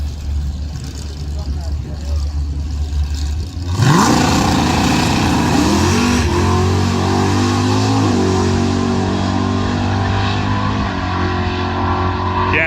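A drag racing car launches down the strip at an International Mustang Meet, its engine revving loud and rising in pitch as it pulls away, with a brief burnout, while people talk over the steady engine roar.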